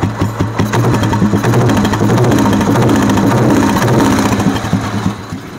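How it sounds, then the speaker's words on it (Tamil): A restored 1990 Royal Enfield Bullet motorcycle idles with its silencer fitted, giving a loud, close, steady thumping exhaust beat at an even rhythm from start to finish. "சைலன்சரோட பீட்டு காட்டுறேன்"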